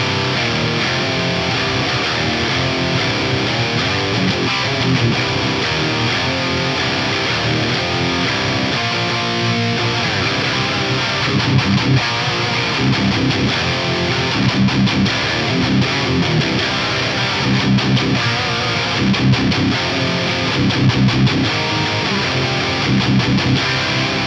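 Heavily distorted electric guitar tuned to drop C, played through an amp-simulator plugin with plate reverb, a loud dense chugging riff with rhythmic palm-muted bursts throughout, no voices.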